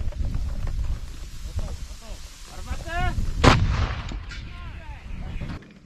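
An MSTA-B howitzer fires in the open: one loud, sharp artillery blast lands in the middle of a long stretch of rumbling field noise, with faint voices in the background.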